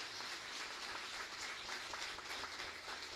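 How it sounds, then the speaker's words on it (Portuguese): Church congregation applauding during a vigil revival service, a steady wash of many hands clapping at moderate distance, continuous throughout with no voices standing out. "Vamos aplaudir ao Senhor"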